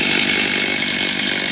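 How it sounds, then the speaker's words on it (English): Chainsaw running at idle during a yard clean-up after a storm, a loud, steady buzzing drone held close to the listener. "There's my idling chainsaw."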